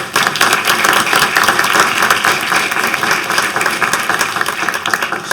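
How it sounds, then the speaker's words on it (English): Audience applause at a House Oversight hearing, a dense, sustained round of clapping from the room, loud and even throughout with no talking over it. "I'd like to offer a quick round of applause for them"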